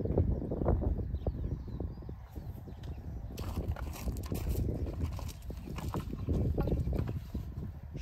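A saddled, tame eight-year-old purebred Criollo gelding, cinched tight, shifts and steps on its hooves in a steady run of dull, close thuds and scuffs with no voices over it.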